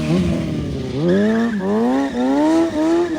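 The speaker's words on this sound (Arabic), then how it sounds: "تفحيط، العب العب." A drifting car's tires squeal loudly and continuously, with rising and falling whining sweeps as the car slides, and no voices.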